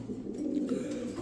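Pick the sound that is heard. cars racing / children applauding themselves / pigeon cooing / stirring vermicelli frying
pigeon cooing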